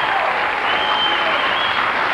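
Studio audience at a television talk show gives a brief, steady wash of applause, dense and continuous with a faint crowd murmur underneath.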